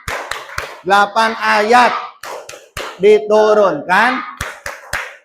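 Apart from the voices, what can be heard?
hand clapping in classroom chant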